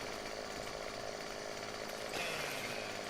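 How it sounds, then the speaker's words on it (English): A chainsaw cuts tree branches in the video game Farming Simulator 2015, a loud continuous buzzing drone with no talk. "So you kind of aim your chainsaw at it and then cut."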